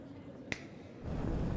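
Grimm, the troupe master boss in the Hollow Knight video game, gives a single sharp finger snap, a crisp isolated crack set against a low background wash that swells into a louder rumble afterward.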